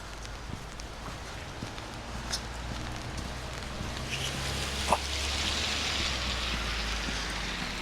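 Steady rain falling outdoors during a windy daily walk with a Sheltie dog, a faint continuous hiss with soft scattered taps and a few footsteps, no voices.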